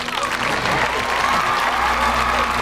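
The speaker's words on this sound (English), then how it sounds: "Beginning with him revealing the iPod to raucous applause" Raucous crowd applause greets the iPod reveal in a Steve Jobs biopic, a dense wash of clapping with some cheering beneath a low steady hum, loud and sustained.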